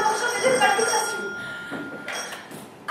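A telephone bell on a theatre stage rings in short bright bursts mixed with voices talking, with a lingering metallic tone between rings.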